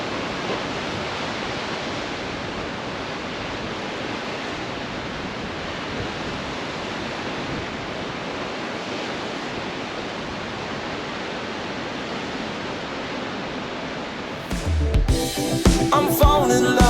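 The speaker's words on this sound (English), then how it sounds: "I could sit here all day and just feel this ocean breeze and listen to the sound of the waves" Ocean waves breaking on the shore along the Rota Vicentina coast in Portugal: a loud, steady wash of surf roar that holds without a break, then turns into a burst of louder, rougher noise near the end.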